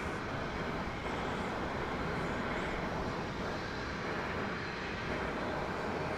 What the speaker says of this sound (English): This will be flight 116, 7878 Dreamliner.